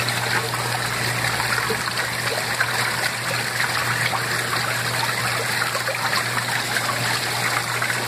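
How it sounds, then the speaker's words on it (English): Water pours steadily into a laundry washing tub for a big load, a continuous close rushing trickle with small splashes throughout. "Of course, I'm using that much water because I'm washing a big load."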